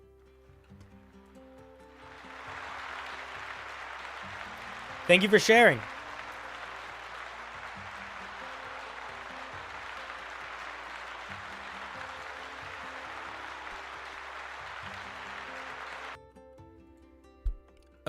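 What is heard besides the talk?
round of applause for a viewer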